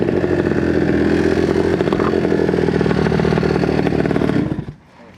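A Honda Dio scooter with a 120cc stroker engine revs hard, a loud, raspy two-stroke buzz with clattering rattle held steady for several seconds, then cutting off abruptly near the end.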